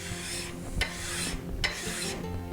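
Metal file rasping along the top edge of a steel card scraper braced by hand, steady close scraping strokes with two brighter strike points and no talk.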